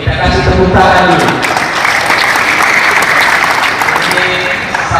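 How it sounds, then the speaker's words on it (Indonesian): Loud audience applause at a party officials' inauguration ceremony in Kupang, a thick burst of many hands clapping that rings out near and strong, with a voice over amplified sound at the start. "tepuk tangan dulu."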